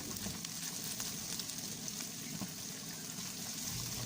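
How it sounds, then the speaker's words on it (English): Onions frying in a pot, a continuous dense sizzle and crackle, close and even in loudness throughout with no talking. "I'm going to start off by adding onions in my pot, and I'm going to cook that until they are golden brown."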